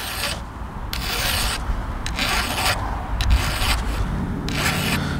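A file rasps against the depth gauges of a chainsaw chain in steady, close, loud strokes, about five or six rhythmic passes with short pauses between.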